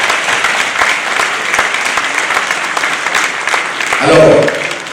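Loud, dense applause from an inauguration audience at an association's launch event, a steady wash of clapping throughout with a brief swell near the end.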